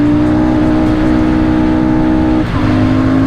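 A Royal Enfield Super Meteor 650 motorcycle pulls hard through its gears, its loud, close engine droning steadily. A brief dip near the end marks a gear change before the tone picks up again.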